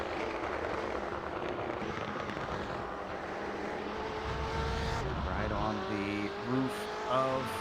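GTE sports cars roar along at Road America in a racing video game, a loud sustained engine drone with engines rising and shifting pitch as cars pass, heard under commentary.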